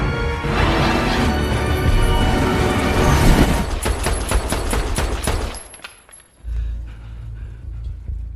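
A film shootout erupts in a dense, loud fusillade of gunshots and crashing impacts that rattle on for several seconds, then break off into a low rumble.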